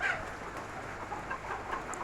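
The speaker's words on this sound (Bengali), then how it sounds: "তাই মুরগিগুলোকে ঘরে খাবার দিচ্ছি বাইরে যাতে না না যায় সেজন্য" Domestic chickens cluck softly indoors during heavy rain as they are fed, a steady low murmur of hen calls throughout with a few slightly louder clucks near the end.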